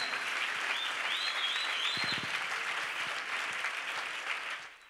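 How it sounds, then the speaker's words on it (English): Sustained clapping from a church congregation at a Friday live service, many hands in a thick steady roar that fades slightly toward the end, with a brief low hum partway through. "Let's clap for him."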